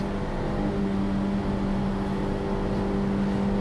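Engine of a 2017 Honda Civic Type R droning steadily at close range inside the moving car, a constant low hum with road noise and no talk over it.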